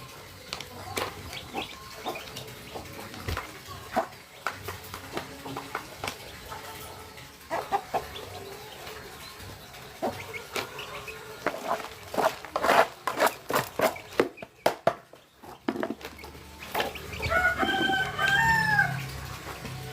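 Chickens cluck and a rooster crows outdoors at a home poultry farm during feeding, with scattered clucks through the clip and a clearer crowing call near the end over rustling and movement.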